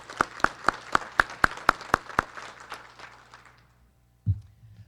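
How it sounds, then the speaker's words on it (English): Scattered, rhythmic hand clapping from a small audience at a college convocation, about ten evenly spaced claps that fade out after a few seconds, followed by a brief low thump. "Give them a round of applause."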